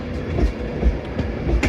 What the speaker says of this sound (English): 390 112 is out of the station